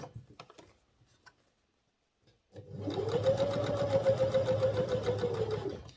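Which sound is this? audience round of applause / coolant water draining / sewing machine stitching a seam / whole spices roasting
sewing machine stitching a seam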